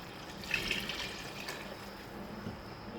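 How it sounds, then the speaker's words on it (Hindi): Water poured from a container into a cooking pot of goat trotters, a steady, fairly quiet splashing and gushing stream lasting throughout. "ये देखें जी, 1 लीटर पानी अब मैं इसमें शामिल कर रही हूँ।"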